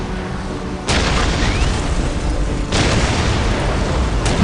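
Ork artillery shells exploding in a Dawn of War PC cutscene, two heavy booming blasts a couple of seconds apart that roll into a loud, sustained rumble filling the scene.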